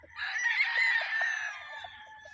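A stag or cockerel crows once, a loud, drawn-out call lasting about two seconds, with soft low clucks from other fowl underneath.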